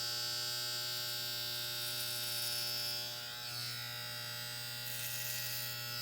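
Electric hair clippers give off a steady, close, buzzing hum while cutting hair in a kitchen. The tone shifts slightly as the blades move through the hair, and no one speaks.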